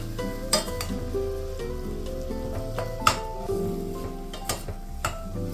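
Ground poultry frying in a pan for baked ziti, stirred and broken up, with steady sizzling and scraping and a few sharp utensil clicks against the pan.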